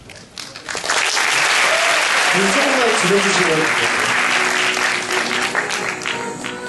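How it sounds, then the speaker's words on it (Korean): A crowd at a Korean fan event in Gangwon-do keeps up steady, loud applause while a voice speaks over it, the clapping swelling early and holding throughout. "박수를 조금만 더 올려주시고요"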